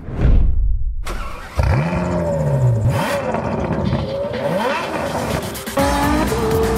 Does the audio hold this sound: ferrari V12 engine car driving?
yes